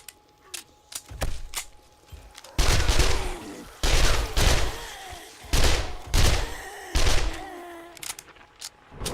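An SMG fires in loud, close bursts in the zombie survival game 7 Days to Die, several rapid volleys with brief gaps between them during a night horde fight.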